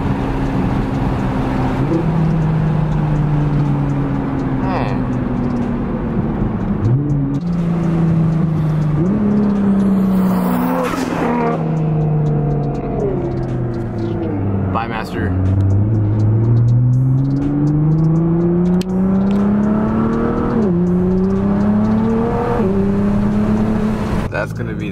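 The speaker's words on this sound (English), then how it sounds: "Finally got this exhaust on there. We got some sound going on." Nissan GT-R Nismo engine with a full titanium exhaust, a loud, close exhaust note rising and falling through repeated revs and shifts, steady throughout the clip.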